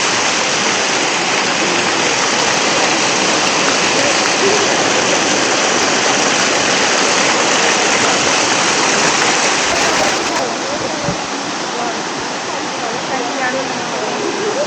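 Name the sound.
waterfall at Pattathippara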